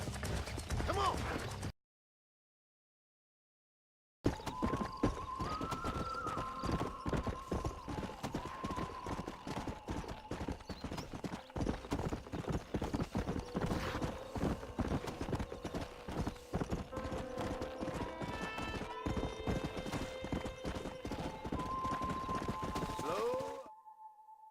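Steady clip-clopping of horse hooves at a walking pace in the video game Red Dead Redemption 2, close by, with a horse whinnying now and then and a brief silent gap near the start.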